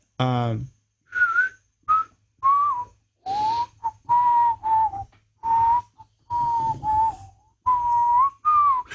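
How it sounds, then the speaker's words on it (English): Melodic whistling closes a soul song, a series of clear whistled phrases with short pauses between them, heard alone and fairly prominent. "There's like a iconic whistle at the end"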